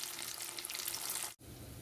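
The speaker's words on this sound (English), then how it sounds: "I'm going to allow them to fry for 2 minutes until they're golden brown" Saltfish balls fry in hot oil with a steady, close crackling sizzle that runs without pause, cut by a brief dropout near the end before the sizzling carries on.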